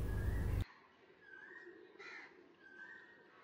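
Birds call around a temple campus where pigeons and other birds gather, a few faint rising calls spaced apart in a quiet outdoor setting after a brief loud burst at the start.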